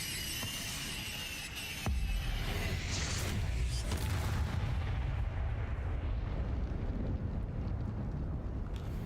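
In a Hogwarts video game, an Incendio fire spell erupts with a sudden whooshing blast, followed by a dense, roaring burst of low rumbling flame that holds loud for several seconds.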